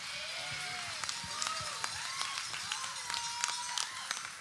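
Audience applause at a charity event's winners announcement as the Way to Own It Award is presented: a steady wash of scattered clapping with sharper individual claps, while a voice talks over it throughout.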